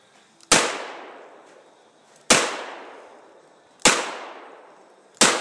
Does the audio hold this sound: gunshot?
yes